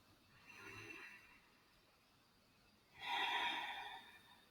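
A yoga instructor breathing slowly through a stretch: two long, breathy exhalations a couple of seconds apart, close to the microphone, the second louder and fuller, with quiet in between.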